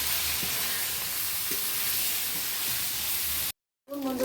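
Paneer pieces frying in oil in a wok, a continuous loud sizzle and hiss that runs steadily before a brief sudden silence and a short resumption.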